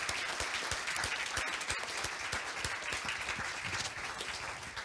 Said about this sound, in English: let's just do one final round of applause for all tonight's amazing speakers